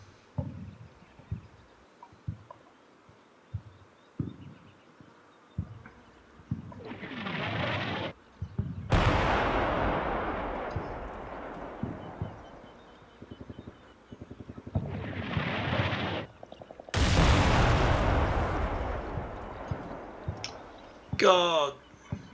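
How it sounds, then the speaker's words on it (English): Gunfire and shooting in the wargame Combat Mission Cold War come in separate loud bursts and sharp cracks over a quiet battlefield background, with voices talking in between. "They're still shooting over there."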